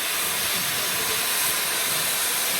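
Steady broadband hiss of steam escaping from a vintage locomotive used for luxury nostalgic express trains, a continuous near and fairly loud wash of noise with no talk over it.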